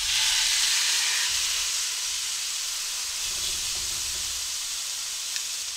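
A beef roast sears in a hot pan for stew-bound stroganoff, giving a steady, loud, even sizzling hiss that holds for the whole stretch with no talk over it.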